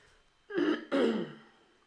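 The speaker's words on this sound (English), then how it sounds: "Sorry, I seem to be clearing my throat here." A man clears his throat twice in quick succession, two rough, close bursts separated by a brief pause, in an otherwise quiet indoor room.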